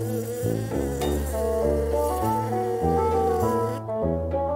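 A loud, steady buzzing drone that shifts pitch in stepped intervals, like a swarm of bees humming close by.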